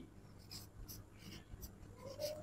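Marker or pen strokes write an answer on a board, faint short scratchy bursts at an irregular pace, quiet and close.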